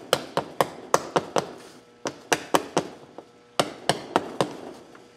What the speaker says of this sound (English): That's your brother-in-law's framing hammer.